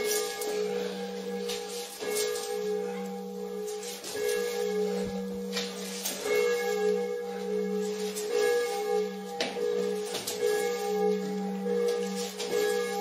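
A church bell swinging in the belfry of a village church in Pławna Dolna, with steady sustained ringing tones and repeated clangs carrying through the whole stretch, fairly loud and continuous.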